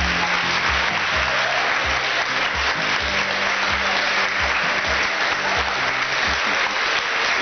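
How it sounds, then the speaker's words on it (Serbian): An audience applauds steadily at a fashion show of new summer models, a thick, sustained wash of clapping with low tones running beneath it. "Kakav aplauz, a?"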